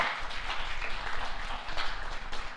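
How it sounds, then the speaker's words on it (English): Clapping from an audience at a school morning assembly, a dense, even wash of applause lasting a few seconds without a break. "let's give Mr. Swartz another round of applause."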